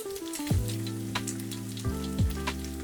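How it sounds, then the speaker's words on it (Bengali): Three eggs go into a hot pan with cooked chicken for Thai chicken fried rice, a steady close sizzle and crackle of frying, with a few soft clunks from the pan and utensil. "এবার ঢেলে দিচ্ছি 3টা ডিমগুলোকে"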